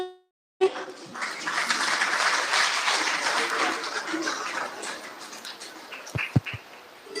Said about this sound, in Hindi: ताली बजाकर इनका स्वागत करें।